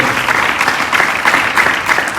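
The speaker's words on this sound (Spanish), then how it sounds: "celebre al Padre con un fuerte aplauso" Loud, steady applause from a church congregation during a Spanish-language worship service, dense clapping filling the whole moment with no voices over it.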